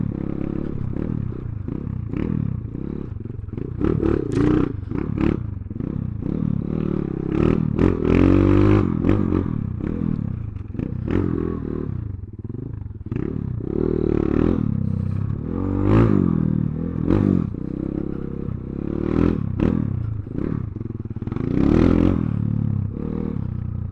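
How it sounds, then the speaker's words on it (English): A 2021 Kayo K2 230 dirt bike engine running, a near, barky single-cylinder note rising and falling through repeated throttle blips and revs, loud and alone without talk. "this 230 is a lot more barky than I would have imagined it be"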